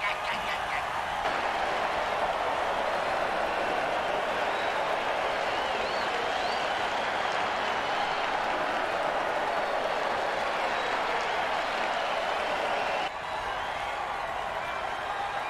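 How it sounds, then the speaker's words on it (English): Crowd noise from an American football video game stadium, a steady loud roar of cheering and clapping that runs the whole time with only a brief dip near the end. "Crowd's loving it."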